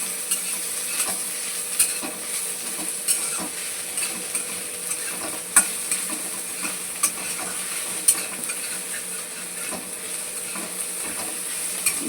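Ginger and crushed garlic stirred in a hot pan: a continuous frying hiss with repeated spoon scrapes and light taps against the metal, close and steady throughout.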